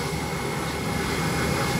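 A Scoot Tiger Air jet airliner runs its engines on the apron before takeoff, a steady, loud roar and whine that holds without a break, with no talking.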